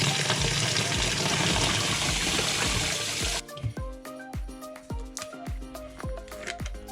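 Tap water pours steadily into an orchid pot for about three seconds, then stops, leaving a series of drips and splashes as water settles and trickles in the pot.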